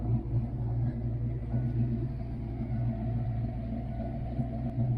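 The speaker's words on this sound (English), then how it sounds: "That's a stage 1 trick flow cam, but it sounds really good through the tailpipes" A stroked Ford Mustang Foxbody V8 with a stage 1 Trick Flow cam idles through its tailpipes, a steady, loud low rumble with a slightly uneven lope that holds for the whole stretch, no talking.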